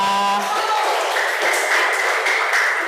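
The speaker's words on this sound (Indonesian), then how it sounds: "Beri tepuk tangan untuk kita semua." A brief tonal ring fades out, then a class of primary school pupils breaks into steady applause that fills the room until the end.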